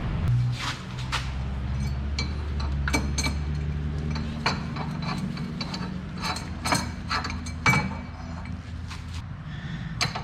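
A hand ratchet tool clicks rapidly while tightening a new inner tie rod on a Jeep Grand Cherokee, with steady ratcheting bursts, occasional metallic clinks and a low mechanical hum, close up.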